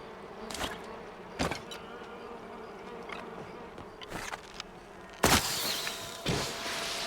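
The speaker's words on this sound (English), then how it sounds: "I hear bees right here." Buzzing bees in the video game Palia, a steady low insect drone heard alongside several sharp broadband bursts of game sound, with one louder burst near the end.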